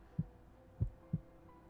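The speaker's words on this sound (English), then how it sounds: "I could hear his heart beating steadily, gently" Heartbeat sound effect from the video game Hakuoki: Kyoto Winds, soft and low: three muffled thumps, an uneven pair then a third, quiet and close with a faint hum beneath.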